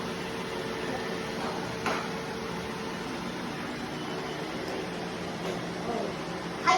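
A robot vacuum cleaner runs indoors with a steady, even whirring hum throughout. It stays moderately loud, with a couple of faint bumps along the way.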